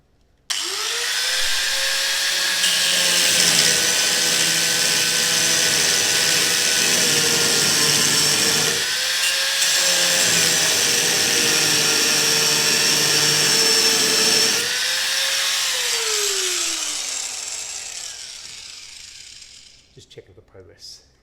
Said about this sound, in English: Not sure if this little cutting wheel will do it, but we'll give it a go.